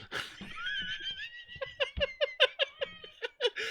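A house cat meows up close: one drawn-out call, then a quick run of shorter, rhythmic cries.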